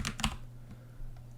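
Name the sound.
typing a terminal command on a computer keyboard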